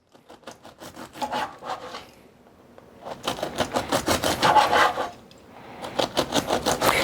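A knife saws thin slices from a well-structured loaf of bread, close by, in three bursts of rhythmic rasping strokes separated by short pauses.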